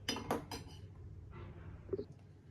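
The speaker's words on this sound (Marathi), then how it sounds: "आता मी एका भांड्यात काढून घेते" Boiled peas are scooped from a cooking pot into a bowl: a few sharp metallic clinks of a spoon against the vessels at the start, then quieter scraping and one more faint clink.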